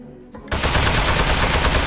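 Rapid automatic gunfire erupts suddenly after a brief quiet moment, a loud dense burst of continuous shots striking metal in the Aperture Desk Job video game, sustained and close without any voices.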